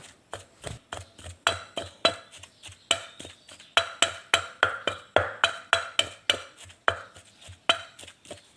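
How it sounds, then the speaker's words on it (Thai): Mackerel being pounded in a mortar for Thai chili paste (nam prik pla tu), a steady run of sharp, close thuds repeating about two to three per second, with no talking. "เขาก็ตำปลาทูให้ละเอียดไปเลยๆเลยนะครับ"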